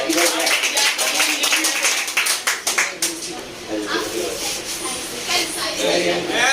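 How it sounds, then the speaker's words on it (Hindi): A group of people clap hands together at a Teacher's Day celebration in a defence coaching academy, the claps rapid and bunched at first then thinning out, with loud talk and voices mixed in throughout. "ताली बजाइए, ताली बजाइए।"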